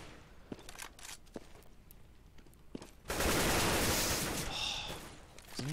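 Gunfire in a Counter-Strike: Global Offensive esports match on de_mirage: scattered faint shots and footsteps, then a loud sustained burst of automatic fire lasting about two seconds.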